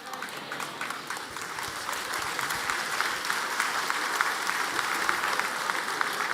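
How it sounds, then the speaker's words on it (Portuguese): An audience at a church talk on healthy relationships applauds in a steady, sustained wash of many hands clapping at moderate distance, with no voices. "foram eles que começaram as palmas"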